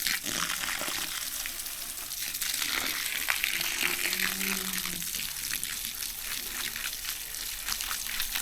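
A garden hose or can watering herb plants outdoors, a steady close hiss and splash of water running continuously without pause.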